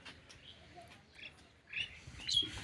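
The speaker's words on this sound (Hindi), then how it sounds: "पंछी भी एकदम चहक चहक से उठी हुई हैं" Small birds chirp and tweet outdoors in a village near green fields, a few light, scattered calls at moderate distance over quiet background hiss.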